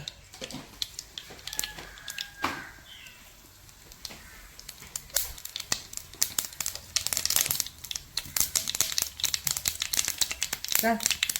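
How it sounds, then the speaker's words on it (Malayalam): Mustard seeds splutter in a little hot oil, starting with scattered pops and building into dense, rapid crackling, with a voice speaking quietly in the early part. "കുറച്ച് എണ്ണ ഒഴിച്ചാൽ മതിയേ. കുറച്ച് കടുക് ഇട്ട് കൊടുക്കും."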